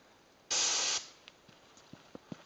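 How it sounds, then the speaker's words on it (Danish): Cayenne pepper bear spray fired on a Mt. Robson trail, one loud hissing burst of about half a second, followed by faint scattered clicks and small noises. "demonstrerer her med cayenne-pebersprayen, også kaldt bærspray"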